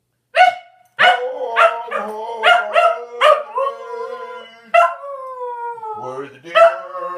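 A Scottish Terrier howls and yips along to a song, its drawn-out wavering cries loud and close, with a person's voice joining in at points.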